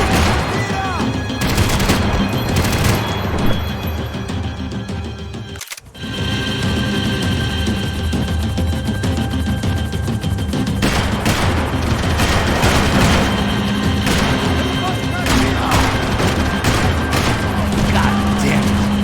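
Gunfire crackles heavily in Max Payne, with dense volleys of loud shots and impacts, a brief silent cut, then more rapid bursts mixed with game sounds and occasional voices.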